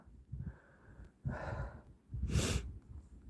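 Heavy, laboured breathing from a person short of breath after a two-kilometre uphill walk through deep winter snow, with a few loud close puffs and exhalations in quick succession.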